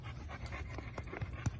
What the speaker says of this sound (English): She's a very sensitive dog.